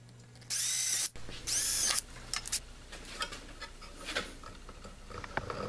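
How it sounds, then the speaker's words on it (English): A power drill bores into a plastic cap to cut L-shaped locking slots, two loud whining bursts of about half a second each, followed by softer scraping, clicking and handling noises. "Drilling the cap to make the locking mechanism."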